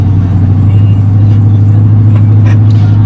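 A cammed 6.2L engine car rumbles under light throttle, a loud, deep, lopey idle-like drone with a pulsing low rhythm, heard from inside the car with faint higher whines.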